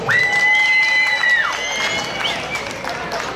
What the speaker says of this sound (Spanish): oiga el aplauso.